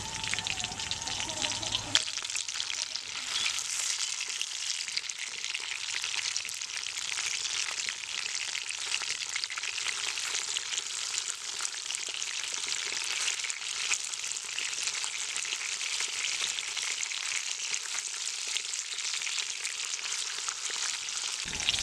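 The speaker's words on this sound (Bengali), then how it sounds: "মাছটার এক প্লেট ভাজা হয়ে গেছে আমি এবার উল্টিয়ে দেবো" Pabda fish frying in a pan with a continuous crackling sizzle, close and even throughout, briefly mixed with a low hum at the very start.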